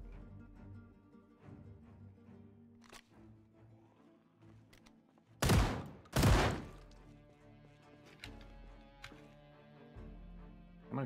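Two loud, close gunshot bursts destroy a door in a survival video game set in Louisville, standing out above a quiet background of soft tapping and game ambience.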